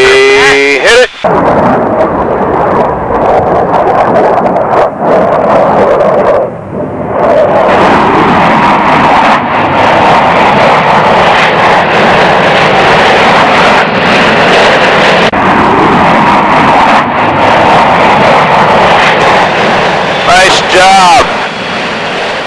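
Blue Angels jet aircraft in flight: a loud, continuous broadband roar fills the whole stretch, with brief dips and a short sweeping whine near the end, while crew voices talk over the engine noise.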